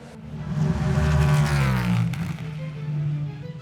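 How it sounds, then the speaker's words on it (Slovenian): A Chevrolet Camaro NASCAR race car's V8 engine roars at the Le Mans circuit, a deep, loud rumble that swells and shifts pitch as the car passes, with no talking. "Ko zarohni 8-valjnik tega dirkalnika, se ob dirkališču dobesedno tresejo tla."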